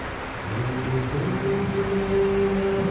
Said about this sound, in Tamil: இங்கே இருக்க அந்த அருவி சின்ன அருவி தான், நல்லா அமைதியான ஒரு சத்தம்.